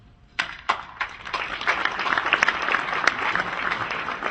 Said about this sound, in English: I even get an applause.